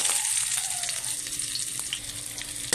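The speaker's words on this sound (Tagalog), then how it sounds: "Guys, ginis natin luya." Ginger, garlic and onion sauté in a hot pan with a steady, close crackling sizzle that holds at an even level throughout, with no talking.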